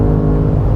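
A BMW M5 pulls hard out of a corner, its engine note loud and steady with a dense, rising roar over a brief moment.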